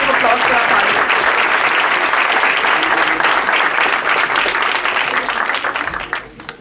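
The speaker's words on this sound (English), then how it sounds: "Let's have a round of applause for our panel." Audience applause for a gender panel at a 2018 event, loud and dense with steady crowd clapping that fades out near the end, with faint voices mixed in.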